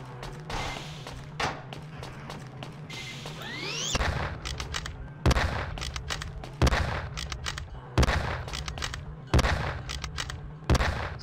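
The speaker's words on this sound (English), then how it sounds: "Someone's shooting me" Gunfire in the steampunk first-person shooter The Principality of Mars: a scatter of sharp shots early on, then a string of heavy, booming reports arriving every second or so, loud and close against a low rumbling background.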